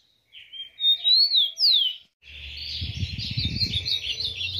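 A rufous-collared sparrow (tico-tico) sings a few clear, sweet whistled phrases up close, then keeps up a steady run of chirps over a low background rumble.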